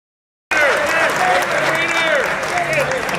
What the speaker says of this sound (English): a big round of applause for the best pinch hitter in the history of Major League Baseball, Gates Brown.